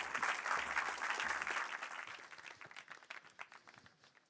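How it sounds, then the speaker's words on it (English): Audience applause for shortlisted nominees at an apprenticeship awards ceremony, dense clapping that starts strong and thins into scattered, separate claps as it dies away. "Please give them all a round of applause."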